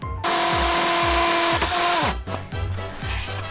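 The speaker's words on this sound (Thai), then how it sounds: "เห็นไหมแค่นี้เองค่ะทุกคนเจาะกำแพงทะลุแล้ว" An OSUKA OCHD802 cordless drill boring through a wall, a loud close motor whine with grinding as the bit bites, dropping in pitch as it breaks through, then resuming at steady speed.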